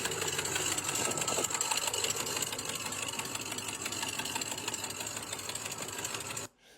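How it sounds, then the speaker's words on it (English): An old station wagon's engine running with significant exhaust leaks, a loud, fast, rattling putter that chatters steadily and close up before cutting off abruptly at the end. "We got some significant exhaust leaks."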